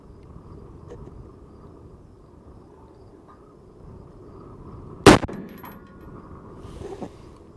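A single sharp rifle shot from a Sterling Arms R18 chambered in 6.5 Grendel cracks loudly midway through, set against a quiet outdoor background of steady insect buzzing, with a faint metallic clink shortly after.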